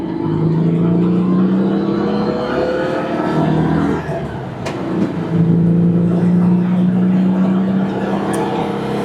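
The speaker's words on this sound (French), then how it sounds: "je vous fais un espèce de départ arrêté jusqu'à 80" A Citroën 2CV engine accelerates from a standstill toward 80 km/h, its buzzing drone climbing in pitch, dropping at a gear change, then rising again, loud and close.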